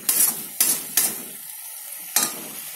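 Egg sizzles in a hot pan for idiyappam egg biryani while a utensil stirs and scrapes it in four distinct bursts, close and fairly loud, with steady frying hiss between.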